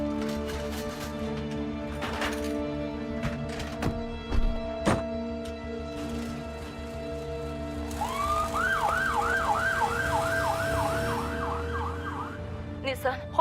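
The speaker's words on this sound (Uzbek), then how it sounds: "Hozirgina tez yordam keldi." An ambulance siren wails in a rising and falling cycle as it arrives, loud and close for several seconds after a stretch of clattering, engine hum and scattered knocks.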